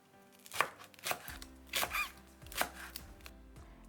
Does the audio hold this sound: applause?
no